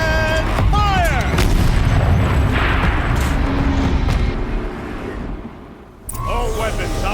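A turret weapon in Horizon Zero Dawn fires with heavy booming blasts that rumble for several seconds before fading. A voice is heard over the barrage.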